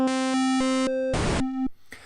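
Pico-8 chiptune instruments played one after another on the note C2, a run of buzzy synthetic tones with a burst of white noise near the end, each sustained briefly with no talk.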